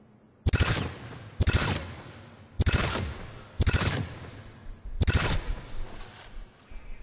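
Hornet gun from the video game Mass Effect 3 firing in five loud, sharp bursts of rapid shots, each burst trailing off in a short echoing tail before the next, with no talking.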